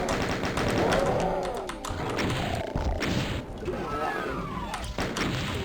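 Rockets fired at pinky demons in Doom boom and thud among constant chaotic game noise, with blasts and impacts overlapping in a loud, steady din.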